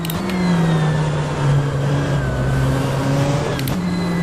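BMW M8 GTE race car in rFactor 2 at Atlanta Motorsports Park, its engine droning steadily with shifting pitch as it climbs and eases, loud and continuous throughout.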